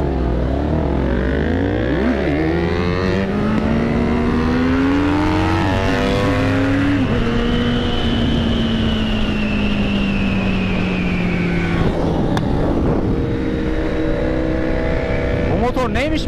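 Kawasaki Z800 motorcycle engine revving and accelerating loudly up through the gears, a rising, sweeping roar with shifts and wind rush throughout.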